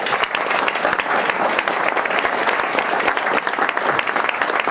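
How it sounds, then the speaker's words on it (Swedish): An audience claps steadily and loudly at an awards gala for local associations in Borås, a dense continuous round of applause with no talk over it. "Lycka till och ännu en applåd för dem här"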